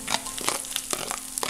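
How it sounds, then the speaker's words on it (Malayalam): Crushed ginger and garlic hit hot spiced oil for a chicken dum biryani, giving a steady close-up sizzle and crackle with a few sharp spits and stirring scrapes. "ഇനി ഇതിലേക്ക് നമുക്ക് ഇഞ്ചി വെളുത്തുള്ളി ചതച്ച് ചേർക്കാം"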